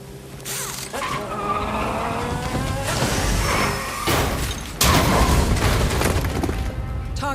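Tires screech and a car skids through a turn in the Hitman video game, a sustained loud squeal over engine noise, ending in a heavy thud near the close.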